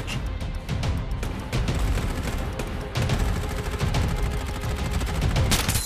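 Continuous gunfire during an enemy squad attack on the Lampton map in Farlight 84, with overlapping rapid bursts and booms filling the whole span at high volume in a dense battle mix.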